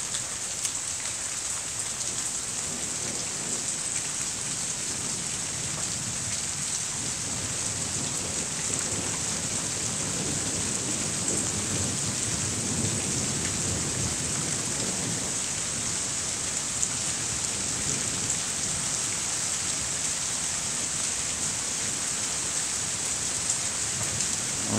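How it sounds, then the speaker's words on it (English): Long, rolling thunder grumbles on and on beneath steady rain on a cold, rainy day in Perigold, Arkansas, the low rumble swelling and fading for many seconds while rain patters continuously. "that was thunder. That was the longest thunder I ever heard."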